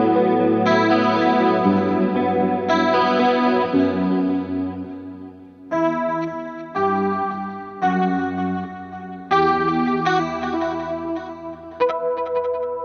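Electric guitar played through an amplifier with chorus-like modulation and some drive, ringing chords and single-note phrases sustaining between changes, loud and close with no talking.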